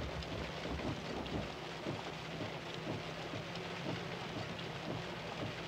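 Steady rain falling outside with low rolling thunder underneath, a dense constant hiss at moderate distance with no voices.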